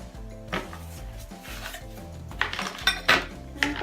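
Pieces of a broken IKEA butter dish clink and scrape against each other as they are handled, giving a few sharp ceramic knocks near the end over quieter rubbing.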